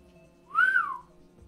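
One short rising-then-falling whistled note from a person, close and clear, over a faint steady background hum.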